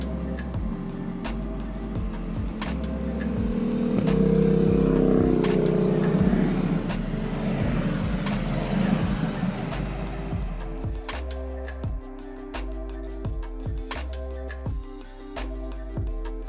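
A Ducati Multistrada motorcycle engine runs steadily while riding winding roads through rolling hills in Thailand, a continuous close drone that swells mid-ride and then settles into lower, pulsing revs with occasional shifts.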